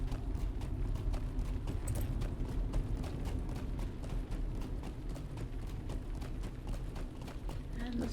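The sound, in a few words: horse hooves clip-clopping while riding, video game LOTRO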